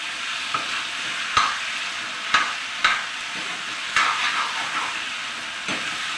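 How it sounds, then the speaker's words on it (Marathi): A spoon stirring a cooked ivy gourd (kovlyachi) vegetable bhaji in a hot pan over a steady sizzle, with several distinct scraping knocks against the pan at irregular intervals and no talking. "एक वेळेचे सगळे चमच्याने मिक्स करून घ्यायचे."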